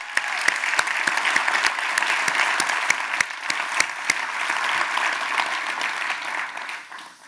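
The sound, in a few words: audience applause for young musicians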